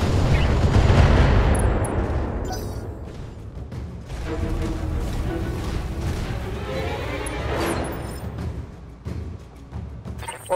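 Mech weapons fire in the BattleTech video game with dense, continuous booming and rumbling blasts that swell and fade. A loud, heavy wash of combat noise fills the whole span.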